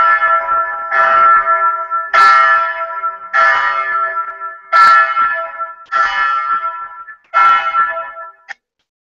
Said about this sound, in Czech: takže můžeme si spustit zvon